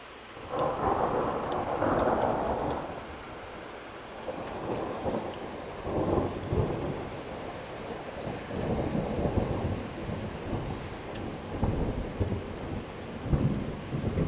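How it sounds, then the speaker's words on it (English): An April thunderstorm with rolling thunder and steady rain, loud, long low rumbles that swell and fade repeatedly over a constant hiss of rainfall, no voices. "We don't even normally usually get thunderstorms like this in April."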